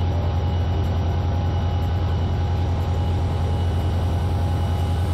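In the Immersive Railroading video-game mod, a train runs with a steady, loud, low mechanical rumble and hum that holds constant throughout, with no talking.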